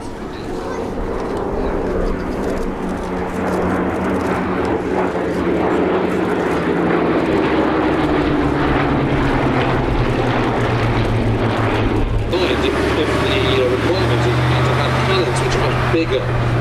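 Several Hawker Hurricane fighters pass in formation at an airshow, a steady, loud piston-engine drone that swells and shifts in pitch over time, with a voice talking across most of it.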